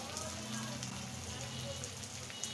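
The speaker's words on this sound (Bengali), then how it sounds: "এখন আমি এটা খুব সুন্দর করে ভেজে নেব।" Steady, soft sizzle of frying in a pan after turmeric powder goes in, a continuous hiss with faint scattered pops, fairly quiet and uninterrupted.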